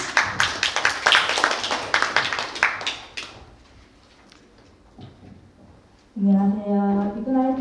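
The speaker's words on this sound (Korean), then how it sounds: "큰 박수로 맞이해 주십시오" Burst of audience applause with dense clapping for a few seconds as a speaker is welcomed at a youth Ignite talk event, fading into quiet room noise, then music starts up loudly near the end.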